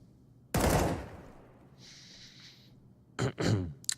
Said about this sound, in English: the AK penetrates through the small portion, the metal flooring